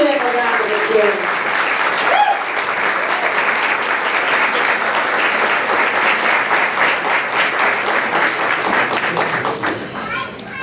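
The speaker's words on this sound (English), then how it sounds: "Give them a round of applause." Loud, sustained audience applause for event sponsors, dense clapping filling the room at close range, thinning out near the end as a few people talk.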